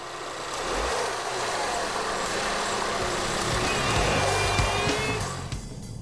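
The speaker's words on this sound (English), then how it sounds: "We're testing the 2-liter CC model with 155 kilowatts of power." A 2-liter gasoline CC car with 155 kW and a 6-speed manual gearbox drones with a steady, moderately loud engine hum. A faint rising whine comes in near the end before the sound drops away.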